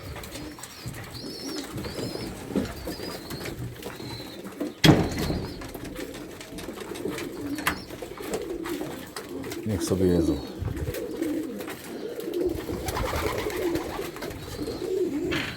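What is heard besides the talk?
pigeons cooing while eating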